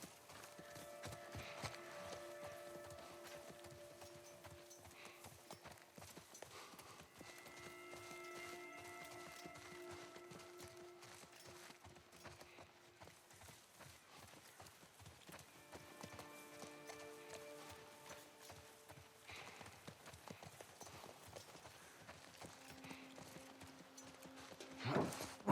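A horse walks with steady, rhythmic hoof clip-clop in The Last of Us Part I, fairly faint and continuous under low game ambience and tonal background sounds.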